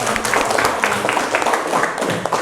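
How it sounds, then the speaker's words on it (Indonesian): A class claps steadily in a classroom, a dense patter of hand claps with a few voices mixed in, fairly loud throughout. "Ya, tepuk tangan dong."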